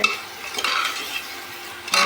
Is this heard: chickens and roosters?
no